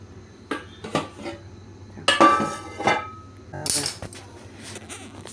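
Pressure cooker being opened in a home kitchen while making Gujarati muthiya dhokla: a few metallic clanks and scrapes of the lid and pot, then a short bright burst of hiss near the end, with faint low hum beneath.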